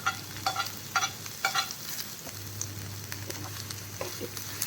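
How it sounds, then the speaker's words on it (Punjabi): Chopped onions and green chillies fry in a little oil in a kadai, with a continuous close sizzle punctuated by rhythmic scraping bursts from stirring in the first half, then a smoother hiss. "ਹੁਣ ਆਪਾਂ ਕੜਾਈ 'ਚ ਥੋੜਾ ਜਿਹਾ ਤੇਲ ਪਾਇਆ ਉਹਦੇ ਵਿੱਚ ਆਪਾਂ ਪਿਆਜ਼ ਪਾਏ ਨਾਲ ਹੀ ਹਰੀ ਮਿਰਚ ਪਾਈ"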